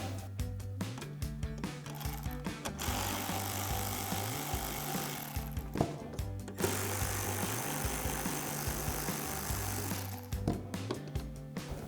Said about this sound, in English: We'll grab our ratchet and socket,